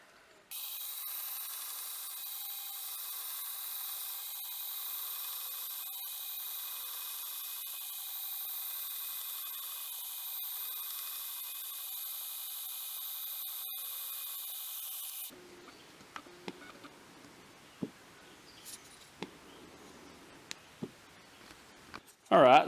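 A belt grinder shapes the front ends of knife handle scales, a steady high broadband grinding hiss held for about fifteen seconds, then it stops and quiet workshop handling clicks and taps follow.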